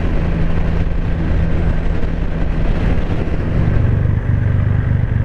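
A 2021 Triumph Rocket 3 GT motorcycle cruising in fifth gear at about 70 mph and just over 3,000 RPM gives a steady, loud engine drone with wind rush, constant throughout with no talk.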